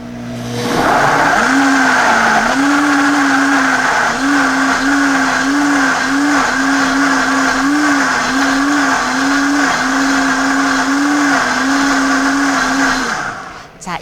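A high-speed blender whirs loudly and continuously as it purees cooked beet and carrot into juice, with a steady motor whine that wavers slightly in pitch throughout.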